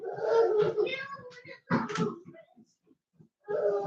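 A cat meows and cries right at a bedroom door in several drawn-out, close calls with short pauses between them, and a person talks to it in between.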